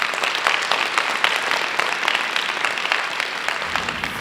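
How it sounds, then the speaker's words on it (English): Audience applause at a periodic paralysis conference after a doctor's talk, steady dense clapping from a crowd filling the whole stretch at even loudness. "Can we get an applause for Dr. Cannon?"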